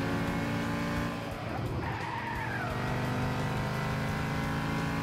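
Tires screech as a car in Gran Turismo 6 slides out through a corner, a sustained skid over steady engine drone with no talk.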